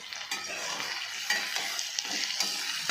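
Sliced onions sprinkled with a little salt fry in oil for birista, giving a close, constant sizzle broken by regular stirring scrapes and clinks of the spoon, with no talking.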